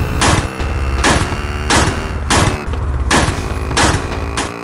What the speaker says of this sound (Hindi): लगातार नीचे पटाखे मार दिए